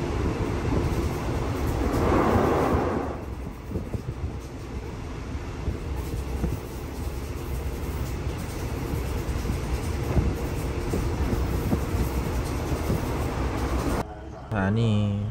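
A Thai local train 415 locomotive runs through rural Isan with steady rumbling engine and wheel noise over the rails, swelling briefly early on, while someone talks over it throughout.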